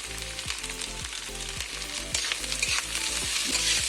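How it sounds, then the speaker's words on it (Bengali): Fish pieces with carrot and capsicum fry lightly in a pan, a close, steady sizzle with spattering crackles, getting slightly louder toward the end, with no voices. "খুব বেশি ভাজবো না এবার এটা হালকা হালকা ভাজা হয়ে গেছে"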